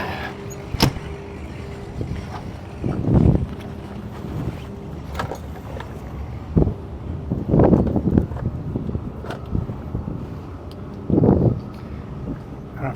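Gusty wind buffets the microphone near the Needles Ferry crossing in British Columbia, swelling into several loud rumbling gusts over a steady low background drone.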